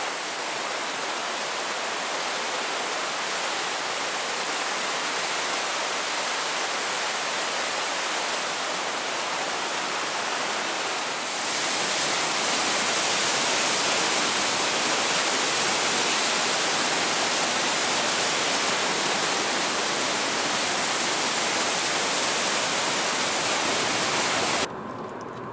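Water rushing through the Sigmund Kuhn Klamm gorge in Kaprun, Austria, a dense, steady roar like a waterfall that grows louder partway through and holds constant, with no voices.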